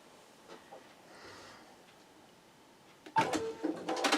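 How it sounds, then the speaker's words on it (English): An embroidery machine working with a magnetic hoop starts up after quiet room noise, giving a sudden loud, rapid mechanical stitching chatter for the last second. "I'm going to go ahead and start my next stitching."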